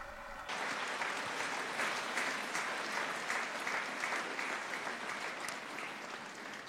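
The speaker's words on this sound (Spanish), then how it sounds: "C'est donc Marie et Jésus qu'il faut applaudir." Audience at a youth festival bursting into applause after a brief quiet start, a full, sustained clapping from a large crowd that holds steady to the end.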